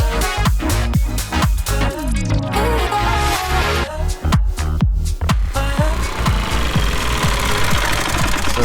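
A lawn mower runs close and loud on the first lawn care day of the season, its engine churning with a steady, knocking rumble throughout and rough mechanical clatter over the top.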